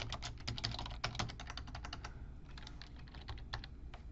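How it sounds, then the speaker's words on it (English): Quiet, steady typing on a computer keyboard, a continuous run of soft keystrokes at close range with no voices. "I'm doing a lot of typing."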